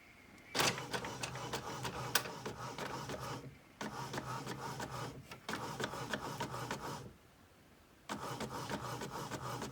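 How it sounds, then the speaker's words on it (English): A cheap home printer runs a print job on printable heat-transfer vinyl, giving a steady mechanical whirring and rasping feed with clicks and short pauses between passes, close and fairly quiet. "Alright, so now it's going to come out of our printer."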